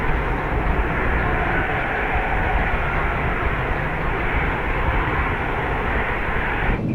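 A jet airliner's engines roar steadily at takeoff power on a runway at San Francisco, a broad continuous rumble and hiss heard from inside, with no talk over it.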